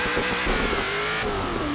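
The engine of a Hot Wheels Mustang race car revs hard in the video game Forza Horizon 3, a steady close throaty roar with rising pitch lasting under two seconds.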